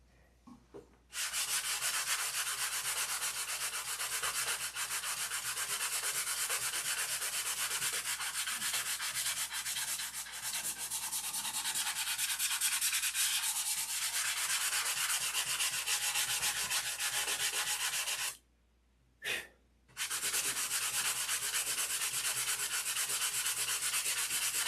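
A surface wet-sanded by hand with 600-grit sandpaper: close, steady back-and-forth rubbing that runs continuously, stops briefly twice near the end, then picks up again, with no talking.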